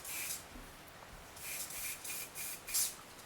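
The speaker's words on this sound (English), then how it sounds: "take your spray confectioner's glaze and spray it downwards onto the tree" Several short hissing bursts of confectioner's glaze sprayed downward from an aerosol can onto a sugarpaste Christmas tree, close and fairly quiet, with brief pauses between spurts and no talking.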